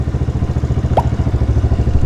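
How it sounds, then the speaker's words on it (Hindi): A motorcycle engine idles with a fast, even chugging pulse as its RPM drops below 2000 during air-fuel mixture adjustment, close and steady, with a brief high squeak midway. "आरपीएम थोड़े ड्रॉप हो रहे हैं और बाइक का साउंड भी आप देख सकते हैं"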